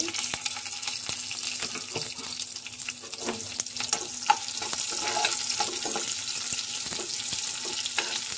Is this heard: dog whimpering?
no